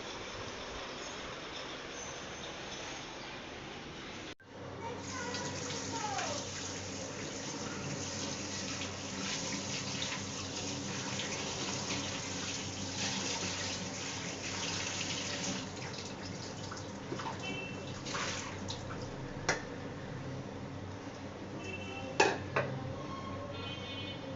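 Mangoes are washed under a running tap, with a steady rush of water and occasional splashes and clunks of handling that continue for a long stretch without talking.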